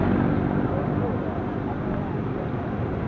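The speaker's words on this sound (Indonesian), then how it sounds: "Ada knalpot gulung berisik motor di belakang kita" A motorcycle with a loud aftermarket rolled exhaust runs behind a rider in town traffic, a rough, steady engine drone throughout, with talking over it.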